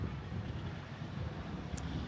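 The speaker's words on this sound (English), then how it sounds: "It's a bit windy today" Steady wind buffets the microphone with a low, rumbling roar at the Maspalomas sand dunes beach in Gran Canaria, continuous and fairly quiet, with no voices.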